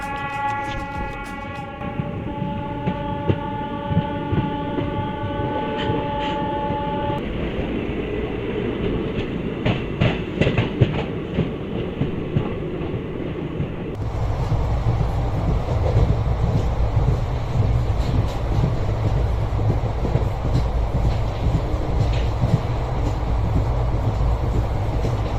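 An Itwari to Rewa Express on Indian Railways runs along the rails, with steady rumbling wheel noise and clicking rail joints, plus a sustained horn tone near the start. The rumble grows louder and deeper partway through.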